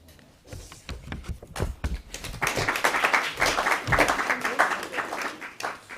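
Audience applause at the launch of a broadcast guideline event rises from scattered claps into sustained clapping, building and holding for several seconds before tapering slightly.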